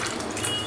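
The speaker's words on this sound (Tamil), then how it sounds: "இன்னும் கொஞ்சம் தண்ணி ஊற்றி" Water pours steadily into ground finger millet paste during grinding, a brief, close, continuous splashing gush.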